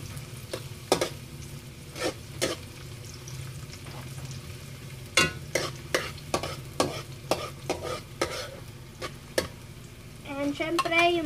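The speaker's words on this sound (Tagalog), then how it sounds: "saute lang guys, pang gisa-gisa lang. So ilagay na natin yung sibuyas." Onions sauté in a pan for pork adobo, with a steady low sizzle and a spatula knocking and scraping against the pan every second or so. A brief voice comes in at the end.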